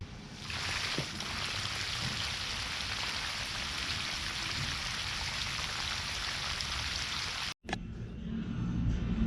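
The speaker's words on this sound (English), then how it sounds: "It'll immediately start pumping water." A pump draining water out of a hot tub gives a steady, loud rushing hiss that stays constant, cuts out for an instant near the end, then returns duller.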